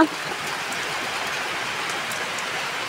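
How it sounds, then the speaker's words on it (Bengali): Heavy rain pours steadily outdoors with a light wind, a dense continuous hiss that stays even and close throughout with no breaks. "অনেক জোরে জোরে বৃষ্টি হচ্ছে বাহিরে, বৃষ্টির সাথে হালকা হালকা বাতাস আছে।"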